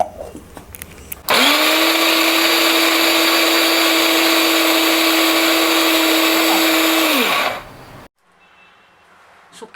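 A mixer grinder kicks in after a brief rattle, whirring loudly and steadily for about six seconds grinding roasted dry spices to powder, before winding down and stopping, leaving quiet background sounds.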